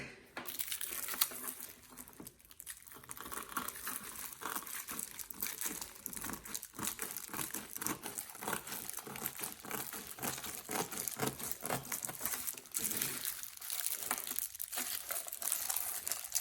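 Rhinestone fabric being cut under a protective plastic covering, a steady stream of close crinkling and crackling plastic with small snips and rustles throughout, no talking.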